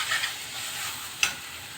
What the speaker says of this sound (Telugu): ఇది పచ్చివాసన అంతా పోయేలాగా వేయించుకోవాలి.